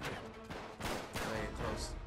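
Gunfire in Uncharted 3: Drake's Deception, several loud, sharp shots in quick succession, close and punchy amid in-game noise.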